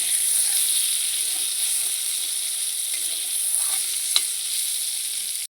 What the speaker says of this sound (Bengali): এটাও প্রায় ভাজা হয়ে এসছে এটাকে একটু ভালো করে ভেজে নেব